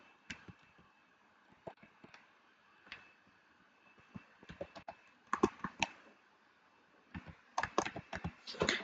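Fingers type a domain name on a computer keyboard, sharp separate key clicks that come in irregular bursts and grow quicker and denser toward the end, close by over a faint background hum with no voices.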